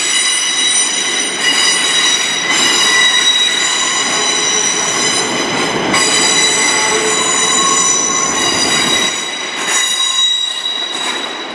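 A TransPennine Class 185 diesel unit from Manchester Airport arriving at Glasgow Central, with loud, sustained wheel squeal in piercing tones over rumbling running noise that eases and shifts as it draws in, with no voices.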